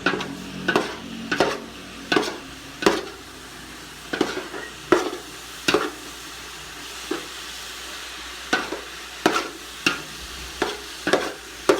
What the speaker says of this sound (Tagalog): pwede na ilagay itong balat ng baka